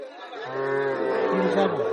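A cow gives one long, loud, close moo at a cattle market, rising and wavering over faint crowd chatter in the background.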